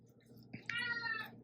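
A house cat gives a single drawn-out meow close by, rising over faint kitchen noise while a whole extra-large raw turkey is being broken down nearby.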